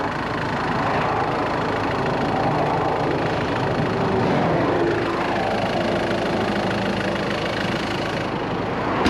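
A van's diesel engine idles steadily with a low, even rumble and faint vibration, continuous and fairly close for the whole stretch, with no talk over it.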